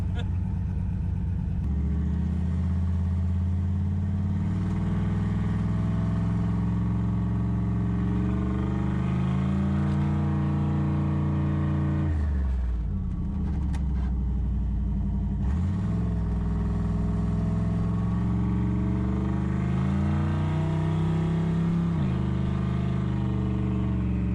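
A turbocharged LS-swapped Chevrolet Malibu G-body engine drones steadily from inside the car on a street test drive, with revs rising and falling and brief shifts, continuous and fairly loud throughout.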